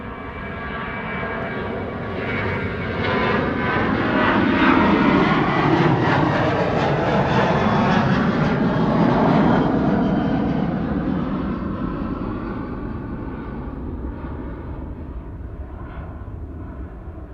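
A KLM jet airliner departs Amsterdam Schiphol, its engine roar swelling from moderate to loud over several seconds, with sweeping tonal whines as it passes, then fading slowly into distance with no voices.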